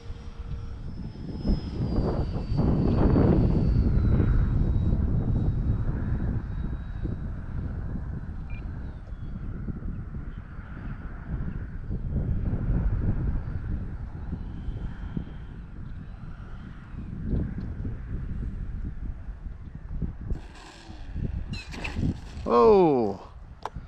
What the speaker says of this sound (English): The wind is definitely rocking her around.